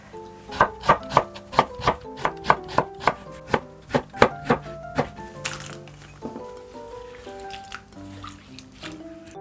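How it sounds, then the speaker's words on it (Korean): A kitchen knife slices burdock root diagonally on a cutting board in a quick, even run of about fifteen crisp chops, slowing to a few softer cuts at the end. "사선으로 나박나박 썰어주시면 됩니다"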